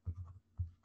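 A pen scratches on paper at a committee assembly meeting, giving two faint, brief bursts of writing strokes close by.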